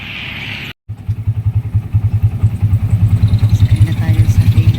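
A motorela, a Filipino motorcycle taxi, idles and runs close by with a loud, pulsing engine beat that steadily quickens, following a brief cutout.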